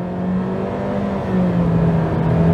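A Honda Civic RS engine with a CVT transmission drones steadily as it accelerates, its tone holding fairly even and rising only gently, heard close from inside the cabin with no talking.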